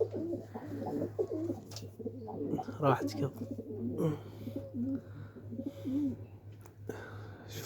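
Homing pigeons coo softly at their loft, repeated low throaty calls over a steady hum, while someone speaks quietly nearby.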